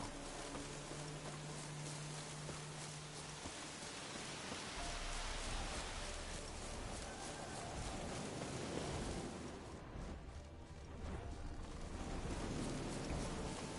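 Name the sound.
rain falling in the video game The Witcher 3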